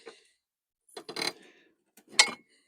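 Hand-turned mechanical unit, a working gear reducer among drilling-machine and hydraulic parts, with rotating parts giving short metallic clicks and ratcheting rattles in two or three brief bursts separated by silence, close and moderately loud.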